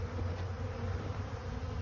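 A swarm of thousands of honeybees hums in a dense, steady drone, close and continuous with no voices over it.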